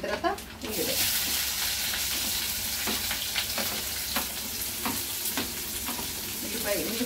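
Cumin, mustard seeds, dried red chillies, chana dal, garlic and onion sizzle and crackle steadily in hot oil for a Telugu chintakaya pickle, close and continuous with occasional stirring scrapes.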